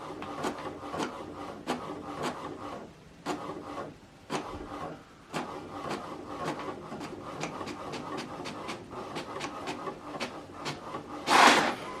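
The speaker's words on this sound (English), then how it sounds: "Now this document is going to print out." An HP printer prints a document sent from a phone, a steady mechanical whirring with rapid rhythmic clicks and rubbing paper feed, close and continuous, ending in a brief louder burst.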